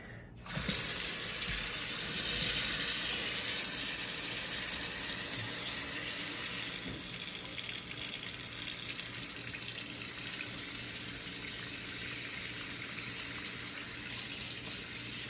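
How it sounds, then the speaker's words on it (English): Warm water gushes from a tap to fill a bath, a strong steady splashing that starts abruptly and runs on with slightly easing loudness, with no talk over it. "I'm pulling some nice warm water for you."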